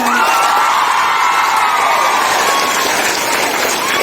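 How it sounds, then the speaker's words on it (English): Loud crowd applause at a school results celebration, with cheering, whoops and children shouting mixed into the steady clapping, and a faint tone is audible at the start. "So once again, a big round of applause."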